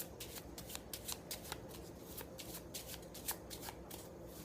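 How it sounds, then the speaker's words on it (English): A deck of playing cards is shuffled overhand, with cards thumbed off from one hand into the other in a quick, steady run of soft flicks and riffling slaps. Close and quiet, with no talking. "You just thumb off cards and shuffle them down"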